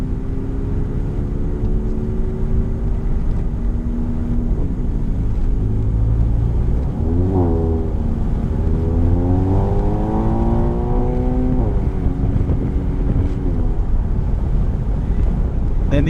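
Stage 2 Volkswagen Mk7 GTI driving hard on winding Missouri backroads, its engine droning steadily and rising and falling in pitch through repeated throttle and braking, with heavy wind and road rumble throughout.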